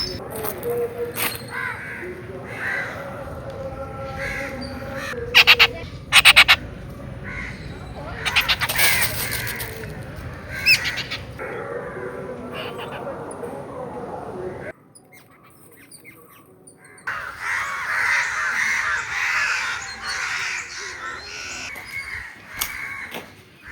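Crows caw repeatedly, loud and close, with a steady din of outdoor background noise and occasional other bird squawks.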